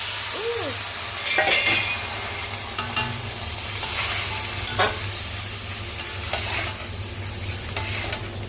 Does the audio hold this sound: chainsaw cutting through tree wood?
no